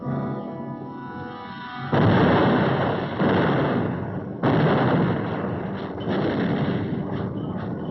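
Artillery and gunfire from a 1945 battle film of Iwo Jima, heavy rumbling blasts and continuous roaring fire in a dense, loud, muffled wash, with sharp onsets near two and four and a half seconds.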